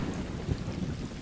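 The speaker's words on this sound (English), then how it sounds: "Oh man, thunderstorm." Steady broadband roar of a thunderstorm with rain in the Stray video game: heavy wash of rain and low rumble filling a short stretch, no voices.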